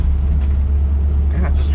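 Deep, steady low rumble from a 1966 AMC Rambler Rebel with a 327 V8 and Holley Sniper fuel injection, heard from inside while cruising, continuous and fairly loud with faint cabin noise above it.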